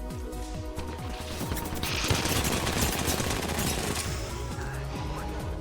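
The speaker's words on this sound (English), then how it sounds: "We're being shot at." Sustained video-game gunfire in Apex Legends, a dense, continuous clatter of rapid shots and impacts layered over game music, loud and unbroken throughout.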